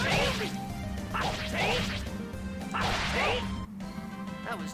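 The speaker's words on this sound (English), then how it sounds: "Ooh, the shattering glass." In the video game Tales of Symphonia, glass shatters in several sharp crashing bursts mixed with whooshing swipes, loud against a constant droning game soundtrack.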